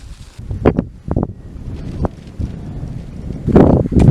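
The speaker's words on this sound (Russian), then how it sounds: "К сожалению, был очень ветреный день." Strong gusting wind buffeting the microphone outdoors in the Yakutian wilderness on a fishing day, rumbling in uneven bursts with some rustling, with no talk.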